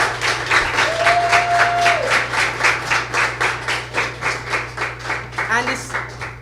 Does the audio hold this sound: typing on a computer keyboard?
no